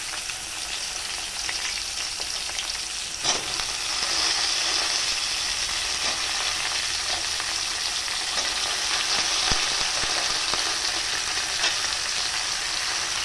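Potatoes frying until reddish in a pan as snake gourd pieces are tipped in, a close, steady sizzle broken by a sharp clatter early on, after which the frying grows slightly louder and continues with occasional stirring knocks.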